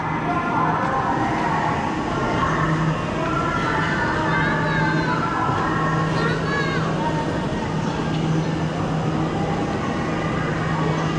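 Aboard an ordinary passenger train in Laos, a continuous loud rumble and rattle of the moving carriages runs throughout, with people talking over it.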